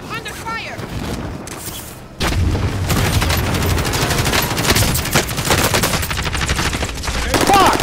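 Dense automatic gunfire and booming shots from Call of Duty: Modern Warfare pour out loud and continuous after a quieter opening, with shouting voices over the din.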